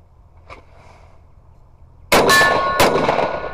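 A handgun fires a double tap at a target: two sharp, loud shots about half a second apart with ringing decay, after a couple of seconds of quiet and a faint small knock.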